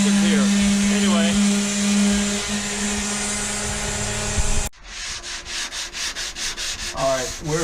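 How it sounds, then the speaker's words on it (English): A random orbital sander smooths Bondo filler on the dash of a 1959 Chevy Apache, giving a loud, steady close-up whir that cuts off abruptly and gives way to a rhythmic series of pulsing sanding strokes. "Just cleaning it up with a random orbital sander here"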